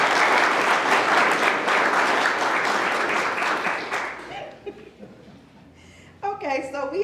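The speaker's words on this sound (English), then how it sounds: "Let's give Tim a round of applause." An audience at a 2022 sustainability summit award ceremony gives a loud, sustained round of applause for an award recipient; the clapping fades after about four seconds, then a voice speaks near the end.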